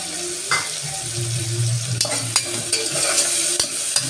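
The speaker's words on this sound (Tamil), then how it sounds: "நல்லா வதக்கிக்கோங்க." Tomatoes and mint leaves sauté in a pan for veg biryani: a continuous sizzle broken by clinks and scrapes of a stirring spoon against the pan, with no talking.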